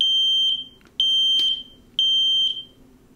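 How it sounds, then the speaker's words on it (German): An X-Sense XP0A-SR combined smoke and carbon monoxide alarm sounds close and loud, a piercing high beep repeating about once per second in a steady pattern, with no voices. "Und dann müsste jetzt im Normalfall gleich dann der Alarm und auch die Sprachansage losgehen."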